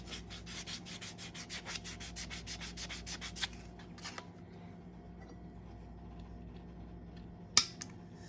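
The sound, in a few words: sanding the edge of a silver half dollar coin ring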